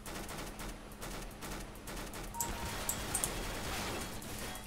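Rapid automatic fire from a Mac-10 submachine gun in Counter-Strike: Global Offensive rattles in quick bursts at low volume, with a few sharper shots standing out and no talk over it.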